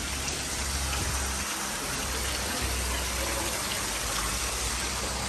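Water from waterfalls and a fountain at a hotel pool in Benidorm splashes and rushes steadily nearby, a dense, continuous hiss with no talking heard.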